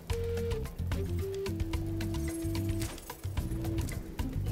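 Birds cooing in Spyro Reignited Trilogy, soft repeated coos amid a busy game soundtrack with steady tones and clicking ticks, fairly faint overall.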